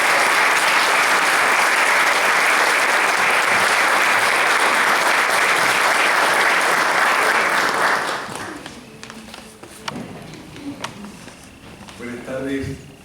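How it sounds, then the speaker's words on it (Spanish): Loud, dense audience applause at a book launch for the author, sustained for about eight seconds before fading out into quiet room sounds. "un fuerte aplauso para el autor del libro La cola como el perro"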